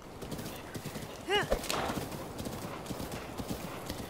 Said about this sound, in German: dann weiter, kleines Pferdchen